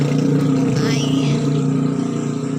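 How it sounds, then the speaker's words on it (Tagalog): Motorcycle traffic on a nearby road runs as a loud, steady engine drone through the whole stretch, with one machine briefly rising in pitch as it passes close by. "maingay ng motor dito guys"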